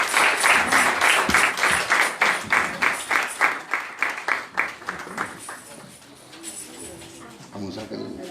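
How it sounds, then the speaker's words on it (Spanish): Children being applauded in a church: clapping from a gathered group, loud for about five seconds with a steady, rhythmic pulse, then thinning out and fading away, with some faint sound trailing at the end. "Fuerte el aplauso para los chicos."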